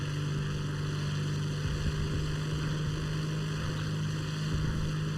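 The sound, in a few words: Tempest propeller plane engine accelerating in video game War Thunder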